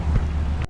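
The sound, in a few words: wind and rain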